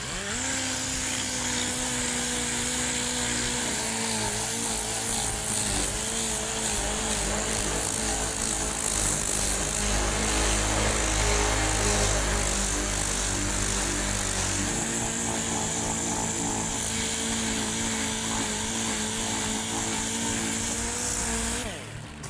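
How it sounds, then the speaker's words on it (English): A dual-action sander with 80 grit paper works over a car body panel, feathering out edges during body prep; a loud, continuous whirring drone holds steady for over twenty seconds with slight pitch wavering. "we can take a DA, we'll go to 80 grit and feather out the edges"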